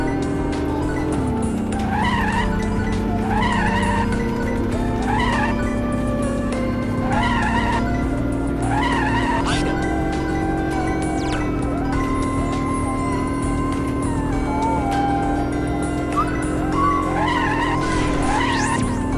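A racing car drifts through corners in the Skid Rush video game, its loud, sustained engine note rising and falling while tires squeal and skid repeatedly over a steady, unbroken roar.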